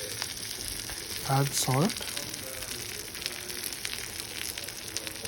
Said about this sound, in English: Add thick butter in a saucepan, add spinach